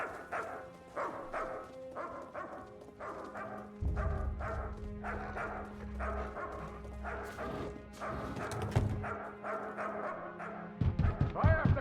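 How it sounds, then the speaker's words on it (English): Dogs bark in The Elder Scrolls Online, a steady series of rhythmic barks repeating about twice a second over game ambience and a low rumble, moderately loud and close, with a denser burst at the end. "dogs!"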